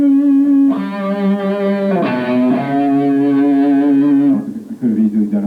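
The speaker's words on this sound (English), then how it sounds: "instead I went for it, more distortion, the wah-wah, a little delay" An electric guitar played through distortion, wah-wah and a little delay sustains loud, bright held notes that shift pitch and bend, then breaks off into a short choppy phrase.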